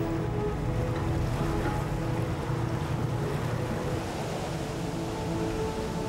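A car ferry crossing the broad, deep Rhone river gives a steady, moderately quiet drone of engine hum mixed with water and wind noise, with no voices.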